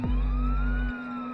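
Police patrol car siren sound effect, a loud wail swelling in pitch, joined by a heavy low rumble that cuts out abruptly partway, close and alone without voices.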